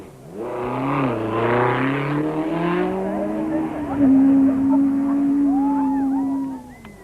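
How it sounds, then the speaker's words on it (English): A 1991 rally car on a forest stage revs hard into a bend with a gearbox full of neutrals, the engine note rising and holding loud and close for several seconds, with a commentator talking over the first half. "Yanni Hubig arrives at a bend in stage 4 with a gearbox full of neutrals."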